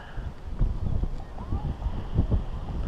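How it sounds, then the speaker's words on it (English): Wind gusts buffet the microphone in uneven low rumbling bursts on an Enchanted Rock climb, with faint voices in the background. "Wind's blowing."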